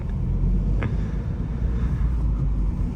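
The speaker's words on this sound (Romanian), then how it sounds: "Încă merge mașina." A Dacia Logan petrol engine idles steadily after an engine wash, giving a low continuous rumble close by with a faint brief tick partway through.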